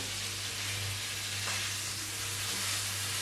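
Ribeye steak sizzling in a pan with garlic and butter, a steady close crackling hiss throughout with a low hum beneath and no talking.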